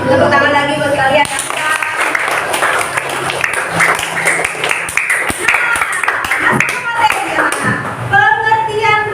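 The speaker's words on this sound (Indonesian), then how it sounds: "Tepuk tangan lagi buat kalian." A classroom of students applauds together, dense sustained clapping for several seconds, with a teacher's voice speaking briefly before and after.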